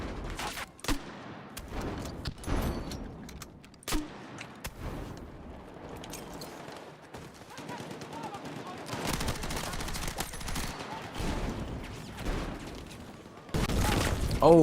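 Battlefield 6 combat on the Hagental Base map, with repeated sharp gunshots, rapid bursts of automatic fire and a grenade blast mixed through a noisy battle, loud and close, with occasional voice chatter underneath.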